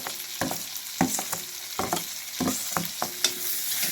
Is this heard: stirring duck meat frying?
yes